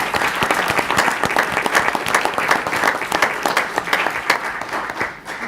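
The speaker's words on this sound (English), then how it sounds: "Again, big applause for all these folks." A council meeting audience gives sustained applause for honored guests, a dense, even clapping from a moderate-sized indoor crowd lasting several seconds.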